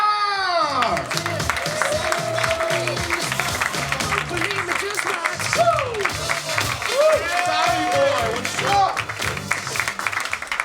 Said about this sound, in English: Give a big round of applause for Tom Thakkar!